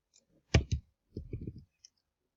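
Mouse clicks at a computer running Autodesk Inventor CAD software: two sharp clicks close together, then a short cluster of softer clicks and a final faint tick, close and fairly quiet with no talk.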